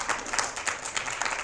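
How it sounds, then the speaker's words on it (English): Brief burst of applause from an audience of future teachers at a talk, a steady patter of clapping heard at moderate distance. "y'all can clap for me."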